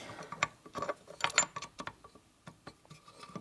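Metal parts clink and slide onto the shaft of a 1976 Harley-Davidson shovelhead 4-speed transmission during a rebuild, with irregular close taps and scrapes that bunch into clusters and then trail off into scattered light knocks.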